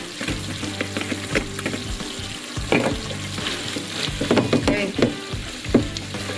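Rice gets stirred into caramelized sugar in a hot pan, with a steady sizzle and repeated scraping, clacking knocks of the utensil against the pan.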